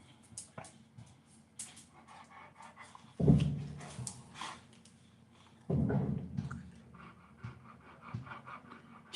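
A pet dog huffs and pants close by, giving soft breathy puffs with a couple of stronger low snorts and faint whimpers, in a quiet indoor room.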